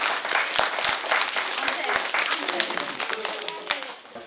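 Audience clapping after a children's story reading in Polish, a sustained round of applause from a nearby crowd with scattered individual claps throughout.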